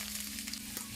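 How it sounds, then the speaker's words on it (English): Vegetables sauteing in olive oil for a Jamaican jerk shrimp pasta, a steady close sizzle and crackle with a low electrical hum running underneath, no voices. "I'm gonna saute all my vegetables."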